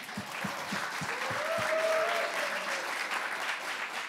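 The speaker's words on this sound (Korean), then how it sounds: "여기서 박수 한번 나와야 될 것 같은데요." Audience applause at an entrepreneurship conference, a steady, even wash of many hands clapping for several seconds, moderately loud with a brief tonal sweep in the middle.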